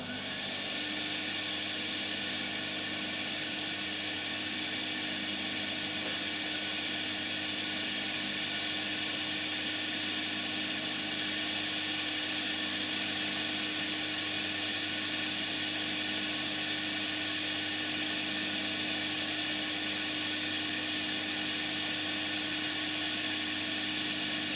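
A power sander works a guitar top plate down to thickness, giving a continuous, even broadband whir with a steady hum that holds at a constant level throughout, with no talk.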